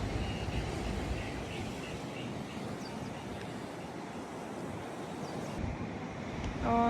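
Strong wind and sea waves on the coast of Malta make a continuous loud roar and wash of surf with buffeting wind noise throughout.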